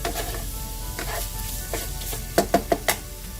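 Ground pork sizzles in a hot pan while a spoon breaks it up and stirs, steady close frying hiss punctuated by several sharp scraping knocks near the end.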